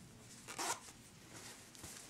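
A zipper on a soft carrying case for a Nacon Revolution Pro PS4 controller is pulled once in a quick faint rasp, followed by quiet handling sounds.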